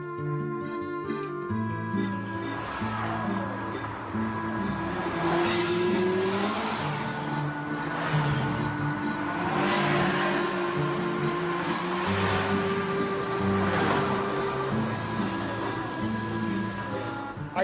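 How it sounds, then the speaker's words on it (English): Cars passing on an Italian road in Umbria, engines rising and fading as several vehicles drive by close, one after another, over steady traffic hum with no talk. "Anyway, enough of these cars."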